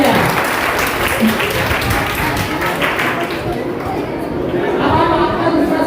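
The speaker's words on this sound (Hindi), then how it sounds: "करेक्ट, तालियां।" Sustained applause from a group in a municipal council classroom session, dense and steady throughout with murmured chatter underneath.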